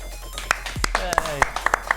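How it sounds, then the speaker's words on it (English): Several sharp hand claps, irregular and close, scattered among people talking. "The clapping's great."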